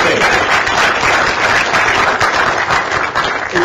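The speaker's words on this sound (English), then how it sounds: "Folks are clapping as they should." Applause from an audience at an FCC public forum in Atlanta: steady, dense clapping that fills the whole stretch at an even, loud level.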